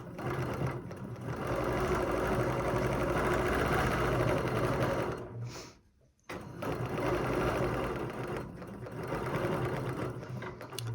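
A sewing machine stitches a quilt with a steady, loud mechanical whir that runs nearly the whole time, cutting out briefly once before starting up again.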